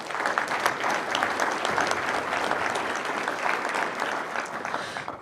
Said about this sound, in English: definitely deserves a round of applause